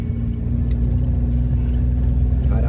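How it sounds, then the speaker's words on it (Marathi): Car engine labouring in first gear on a narrow, steep mountain road in Uttarakhand, a loud steady low drone and rumble from inside the vehicle throughout. "पहिल्या गेअरवर सुद्धा गाडी पुई पुई करू राहिली"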